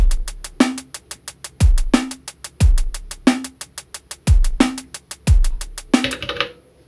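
Elektron Digitone drum pattern with punchy kicks about once a second and rapid, bright arpeggiated hi-hat ticks microtimed tight against each kick, playing alone and loud, ending in a short noisy burst.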